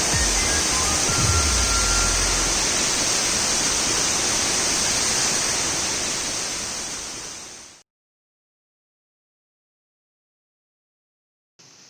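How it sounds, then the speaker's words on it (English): A waterfall in Phuket roars as a loud, steady broadband rush close by, slowly fading out before cutting to silence, with a brief return at the very end. "the waterfall is really pretty"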